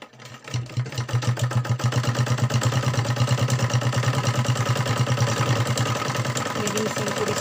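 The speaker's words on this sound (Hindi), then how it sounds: "इस तरह से सीधा करके इसमें ऊपर से सिलाई मारूंगी।" A somewhat slow sewing machine top-stitches a suit, humming in a steady, rhythmic whirr that runs continuously and evenly throughout, loud and close.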